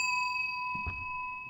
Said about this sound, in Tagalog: Iriring ko yung bell uli.